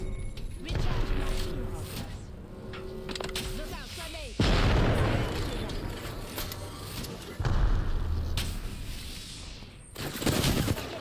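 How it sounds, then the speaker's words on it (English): Rapid gunfire bursts and booms from a battle royale shooter game, loud and dense across the whole stretch, with sharp louder volleys at the midpoint and near the end, under a player's excited talk. "I'm getting shot at."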